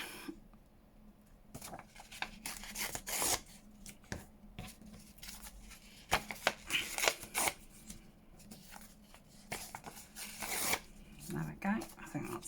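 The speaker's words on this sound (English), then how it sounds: "I might as well rip these up" Paper craft tags being torn up by hand at a crafting table, giving several short dry ripping bursts spread across the clip, close and moderately loud, with a person talking in between.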